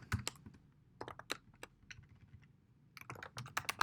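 Quick bursts of typing on a computer keyboard, close and quiet, clusters of crisp key clicks broken by a brief pause before a faster flurry, with no talking.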